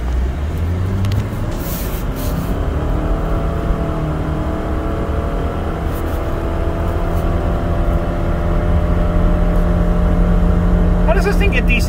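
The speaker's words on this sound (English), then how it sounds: "I don't understand how these things can even remotely get decent gas mileage, especially with the engine just revving like they do." CVT car engine holding a steady, high-revving drone while accelerating, loud and continuous from inside the cabin with sustained tonal hum and no gear changes.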